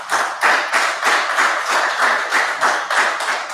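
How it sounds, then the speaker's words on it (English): Small group applause at a village finance committee meeting, a steady rhythmic clapping of a few pairs of hands, near and fairly loud, with no talk. "can we just give our clerk a round of applause?"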